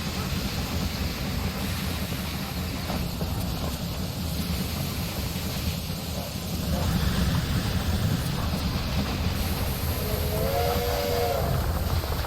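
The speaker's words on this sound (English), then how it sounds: "The train has arrived and is being unloaded." A train arrives at a station in the rail management game Railway Empire 2, with a steady rumbling, hissing background, a louder swell midway and a brief whistle sounding near the end.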